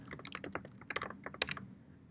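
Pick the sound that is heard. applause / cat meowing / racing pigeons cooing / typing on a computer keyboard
typing on a computer keyboard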